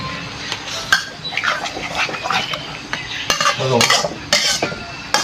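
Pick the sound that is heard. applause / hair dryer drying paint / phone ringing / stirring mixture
stirring mixture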